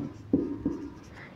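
A pen writes a maths equation on paper in a quiet room, giving two short distinct strokes that stand out clearly from a soft background.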